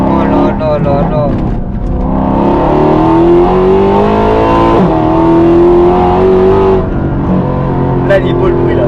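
A Mercedes C63 AMG engine revs hard and climbs in pitch, loud and close, with people talking over it.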